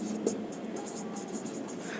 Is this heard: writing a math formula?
yes